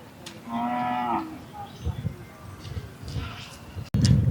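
A Kangeyam bull or cow lets out one clear, drawn-out moo at the Kannapuram cattle market on a Friday evening, heard near and loud amid crowd noise and someone talking, with bumps and handling sounds following.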